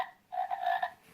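A frog croaks once in a sustained, buzzy call lasting about half a second, close and fairly loud against a quiet background.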